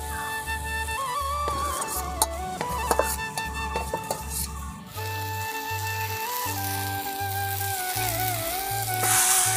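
Onion, garlic, green and dried chillies frying together with kalmi shak greens in a wok, a soft steady sizzle with a few light stirring clicks, fairly quiet and close.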